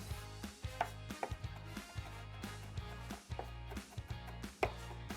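A knife chops garlic and vegetables for chili on a cutting board in quick, fairly regular strikes, about a dozen sharp knocks, close but quiet, with no talking.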